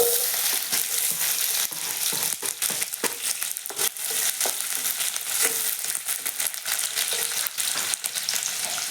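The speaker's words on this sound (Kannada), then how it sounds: "ಈಗ ಉಳ್ಳಾಗಡ್ಡಿ ಹಾಕ್ತಾರ." Onions and curry leaves sizzle and crackle steadily in hot oil, a dense continuous frying hiss punctuated by sharp pops and the scrape of stirring, close and loud with no talking.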